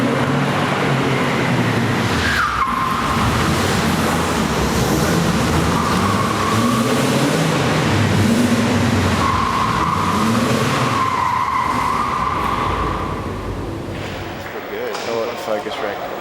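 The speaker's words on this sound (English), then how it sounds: "You're gonna see the Porsche kind of drift in" A Porsche drifts in during a film shoot, its engine and tire squeal drawn out over many seconds at a steady close level, with voices talking over it.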